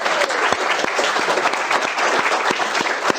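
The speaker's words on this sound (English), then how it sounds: "I think that deserves a round of applause." Audience clapping at a live football cup draw event, a steady patter of hands with some distinct sharp claps close by, continuing throughout without talk.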